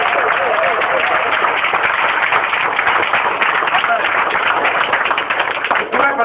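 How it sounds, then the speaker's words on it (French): Church congregation applauding and acclaiming Jesus during a service, loud sustained dense clapping and crowd noise filling the whole stretch without a break. "On peut acclamer Jésus"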